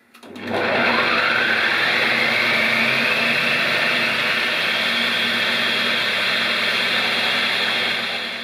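A food processor spins ground peanuts at full speed for peanut butter, its motor whirring up sharply from silence into a loud, steady grinding drone whose pitch climbs slightly before holding level.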